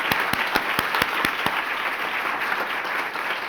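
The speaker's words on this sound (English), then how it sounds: "Yes, please clap for Miss Verna, because she is excellent." Audience applause at a community talk on Black infant and maternal health, with steady crowd clapping throughout and a run of loud, evenly spaced claps from one nearby person in the first second and a half.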